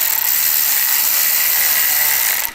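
Screws driven down into a motorcycle headlight bracket on a Softail, heard as a steady, close, continuous ratcheting whir that holds evenly for over two seconds before stopping abruptly.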